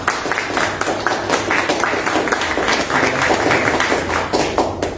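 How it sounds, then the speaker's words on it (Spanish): Studio audience applauding guest Ángel Delgado on a Peruvian political talk program, a steady dense wash of clapping filling the whole stretch at moderate loudness. "un aplauso para él, por supuesto"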